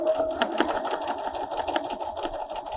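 Rapid rhythmic stitching from a small-throat sewing machine working around a painted black ring on fabric hums steadily up close, with a few sharper clicks over the run.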